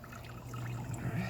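Sugar water mixed with medicine and amino acids is poured steadily into a bee feeder during a hive inspection, a soft continuous trickle close by with a low hum beneath it.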